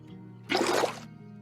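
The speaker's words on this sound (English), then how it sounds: "Now that we have our water source" A short splash of water placed as a water source in Minecraft, one burst of flowing, rushing water lasting about half a second, close and clear with no talk.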